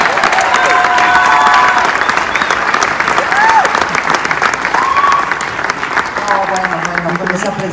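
An audience claps loudly and continuously, a dense near roar of applause with scattered cheers; a voice speaks briefly under the clapping.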